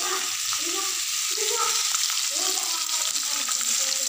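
Masala spices frying in a hot pan, a close, continuous sizzle with crackling pops and a voice talking softly underneath.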